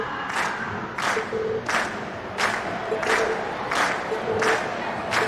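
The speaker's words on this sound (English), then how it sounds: "we've heard your cheers loud and clear" Video game crowd cheering after a school class concert performance, a steady roar of voices with rhythmic pulses of shouting and clapping about every two-thirds of a second.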